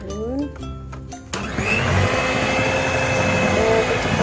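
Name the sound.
electric mixer mixing banana cake batter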